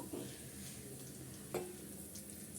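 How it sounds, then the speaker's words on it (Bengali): Chicken pieces frying in hot oil left over from browning onions give a soft, continuous sizzle and crackle, faint and close, with one brief clatter partway through. "একই তেলের ভিতর আমি চিকেন চিকেনগুলো দিয়ে ভেজে নিচ্ছি"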